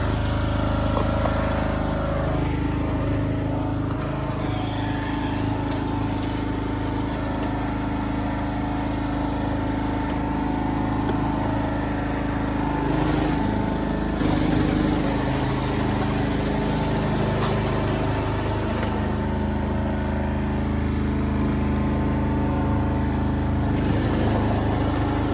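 The small engine of a Yard Bug utility vehicle drones steadily and close-up for the whole test drive, with no talking over it.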